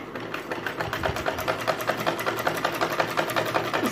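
Sewing machine stitching along the edge of an embroidered neckline, a steady, fast mechanical whir and rattle running continuously at close range with no talk.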